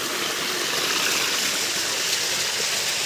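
A mountain stream flows steadily and loud, a dense, continuous rush of water with no pauses.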